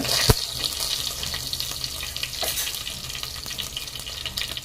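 Crushed garlic cloves hitting hot oil in a pan, a sharp crackle at the start giving way to a steady, close sizzle that fills the clip with no voices.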